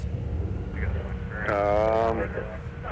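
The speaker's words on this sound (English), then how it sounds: "those engines make such a cool harmonic growling sound on takeoff" Airliner with Rolls-Royce Trent 7000 engines on takeoff at Minneapolis–Saint Paul airport, giving a swelling harmonic growl of stacked tones that peaks mid-clip over a steady roar, with voices in the background.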